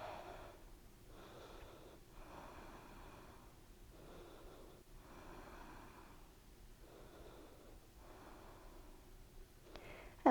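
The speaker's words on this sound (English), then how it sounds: "A few deep breaths." During a stretching workout with a side bend, slow deep breaths come in a steady rhythm, several soft, close inhale-exhale cycles over quiet background hiss.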